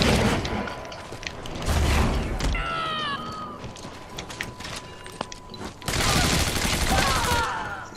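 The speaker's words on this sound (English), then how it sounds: "A motherfucking cannon!" Cannon fire in Metal Gear Online bursts out in heavy, loud booms at the start and again near the end, mixed with rapid game gunfire and clattering effects while players talk and shout over it.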